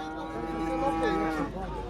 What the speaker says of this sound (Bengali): বড় গরু এটা